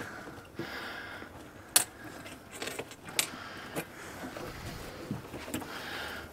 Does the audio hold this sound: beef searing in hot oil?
no